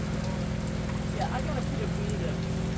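Steady rain patters continuously around a camper van at an outdoor meetup, even and close, with faint voices and a tonal hum beneath it.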